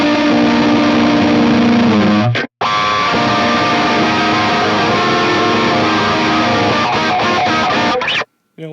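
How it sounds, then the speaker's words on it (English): A clean electric guitar plays sustained chords with a sweeping, swirling phaser effect from a Line 6 Helix, stopping briefly partway through and again near the end. "Clean phase, same thing. Phaser with the clean."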